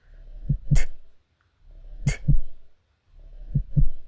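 Heartbeat sound effect with a steady paired lub-dub thump repeating three times, deep and close, with a soft swish after each pair and no voices.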